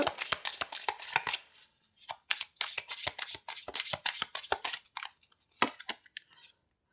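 Tarot cards shuffled and drawn close up, a quick run of crisp flicks and riffles in bursts, with short pauses between and a quiet stop.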